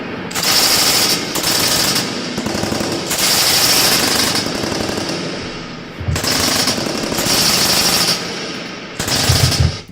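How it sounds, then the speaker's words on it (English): An M249 machine gun fires long rapid automatic bursts at a shooting range, harsh and loud, with brief pauses between strings of fire. "That's what a 249 sounds like."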